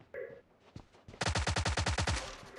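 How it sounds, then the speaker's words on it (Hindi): Automatic gunfire in the PUBG Mobile video game rings out as a rapid, loud burst of about ten evenly spaced shots, preceded by a few fainter game sounds. "हाँ फालतू का फायरिंग कर रहा है"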